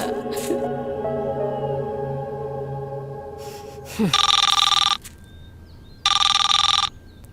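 A telephone rings in two bright electronic bursts separated by a pause, loud and close, after a stretch of sustained tones and background hum.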